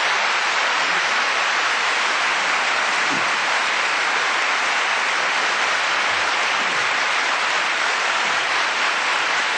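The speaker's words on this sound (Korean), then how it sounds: "박수 한번 치시고." A lecture audience at a university leadership centre claps together in a dense, unbroken wash of applause that stays even and loud throughout.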